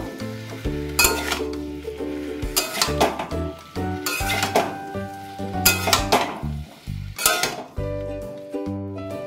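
Young jackfruit, cut and boiled, is stirred and fried in a pan for a traditional Bengali dal, with loud metal spatula scrapes and clanks against the pan in irregular bursts over a steady sizzle.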